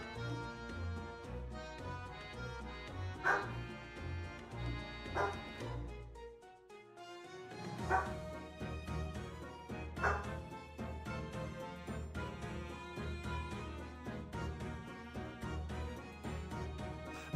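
Dog barking sound effect in The Great Ace Attorney Chronicles 2: Resolve, a few barks mixed into game music with steady rhythmic background, fairly faint overall.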